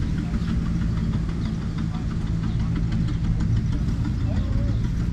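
Oliver OC3 crawler tractor engine idling at an outdoor threshing show, a steady low knocking rumble close by that holds an even rhythm throughout.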